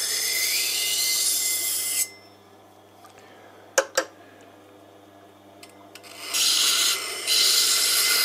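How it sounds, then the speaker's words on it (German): Steady broadband rasping of a blade stroked across a sharpening stone, continuous at first, then a quiet pause with a couple of sharp clicks before the scraping resumes. "Jetzt müssen wir halt erstmal wieder eine neue Schneide anlegen."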